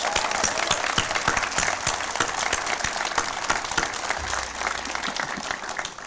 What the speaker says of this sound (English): So please join me in a round of applause for our amazing firefighters and EMS providers.